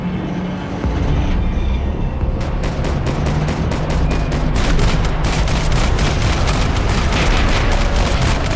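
Dense gunfire fills a Max Payne 3 cutscene as continuous loud automatic bursts with rapid repeating cracks over a heavy rumbling background, close and unbroken.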